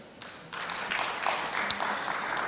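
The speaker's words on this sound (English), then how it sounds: "A round of applause for Mr. Nasser." Audience at a B20 business conference in Indonesia bursts into applause, a fairly faint, steady patter of many hands that picks up after a quiet start.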